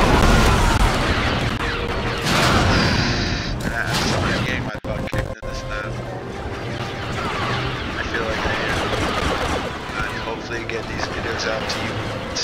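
Blaster fire and explosions from the Star Wars Battlefront game on the Rhen Var Citadel galactic civil war map, a dense and loud continuous barrage of shots and booms with no break.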